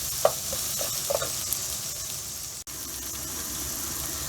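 Pepper paste being sautéed in a pan for a fresh pea and meat stew gives a steady close sizzle with a few brief scraping clinks near the start, no voices, and a single short dropout midway.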